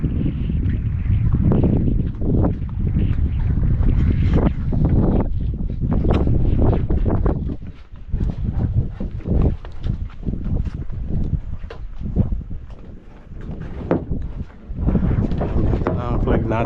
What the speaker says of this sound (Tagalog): Lumakas na ulit ang habagat.